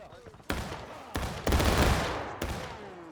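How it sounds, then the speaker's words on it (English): Massed musket fire from a regiment in a Civil War battle game, loud, ragged volleys bursting one after another with rolling echoes trailing off between shots. "Nice little volley from the 4th."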